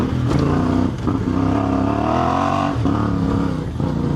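A CFMOTO 450MT IBEX motorcycle engine revs hard during a wheelie, a loud, sustained, close buzzing roar that rises and dips in pitch with brief throttle changes, heard alone.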